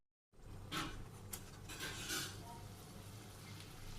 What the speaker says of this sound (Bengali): এইভাবে আমি সবগুলো ভাজি করে উঠিয়ে নিই